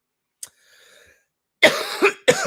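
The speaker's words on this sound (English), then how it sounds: "I'm at my coughing stage" A sharp cough, then after a short pause two loud, harsh coughs close to the microphone in quick succession.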